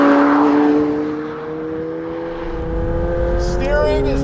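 A 2020 McLaren 720S Spider on Corsa tires drives along with a steady engine drone and tyre roar, rising toward the end as the engine revs up, heard from inside the car.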